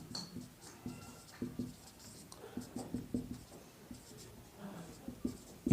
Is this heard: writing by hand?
yes